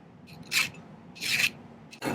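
A metal file rasps on a handmade silver bell, taking off a thick spot of excess solder; three short scraping strokes, close and fairly quiet, separated by brief pauses.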